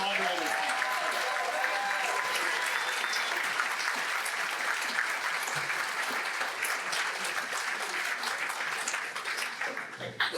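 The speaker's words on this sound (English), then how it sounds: "Can we get a round of applause for our moderators?" A room of spectators at a VA-10 congressional debate applauds the moderators, steady dense clapping lasting throughout, with a few voices murmuring beneath it.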